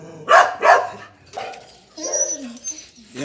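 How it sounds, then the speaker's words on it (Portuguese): Dogs bark at someone passing on the street, two sharp close barks followed by whimpering and yelping, with a voice speaking over part of it. "os cachorros estavam latindo no outro que passou na rua"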